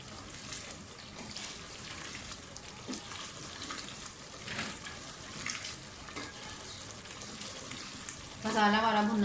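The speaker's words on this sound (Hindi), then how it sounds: "मसाला हमारा भुनना शुरू हो गया है।" Masala of tomato and yogurt for a fish curry sizzles and crackles in a pan with scattered bursts of frying, near and moderate in volume, and a louder clatter near the end.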